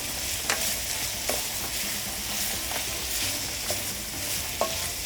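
Ground pork, luncheon meat and hotdog sauté for Filipino-style spaghetti, giving a constant moderate sizzle with regular spatula scrapes and clinks against the pan every second or so.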